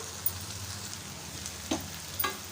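Crumbled chana dal goes into an onion-tomato masala in a pan, where it sizzles quietly and steadily, with a few crisp spatula scrapes and taps toward the end.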